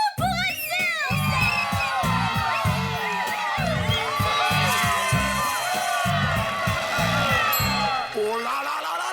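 A school audience at a surprise party cheers and shouts for Haute-Source, a loud sustained roar of children's voices over rhythmic stomping or chanting pulses that carries on for several seconds.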